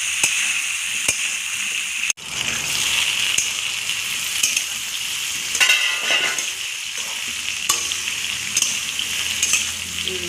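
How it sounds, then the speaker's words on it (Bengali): Taro pieces frying in hot oil in a pan in a home kitchen, a steady close sizzle and crackle throughout with brief stirring clatter, after earlier frying hilsa fish for a taro and hilsa curry. "সবজিটা কচুটা ভাজা হয়ে গেছে এবার আমি তুলে নেব"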